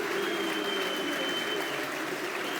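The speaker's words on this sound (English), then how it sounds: "Good round of applause" Sustained applause from a full football stadium crowd at a Millwall home match against Stoke City, a steady dense wash of clapping, loud and unbroken throughout.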